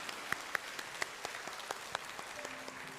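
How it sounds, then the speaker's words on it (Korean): A church congregation at a newcomers' worship service gives a short, light round of welcoming applause. The claps are soft and spread out in a quiet hall, with a few louder individual claps standing out. "귀한 발걸음한 모든 분들에게 환영의 박수 보내드리도록 하겠습니다"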